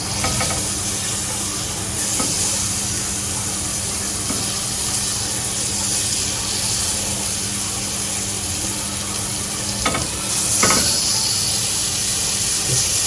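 Meat sears in a hot pan with a steady, close sizzling hiss throughout, swelling briefly toward the end, with no talking.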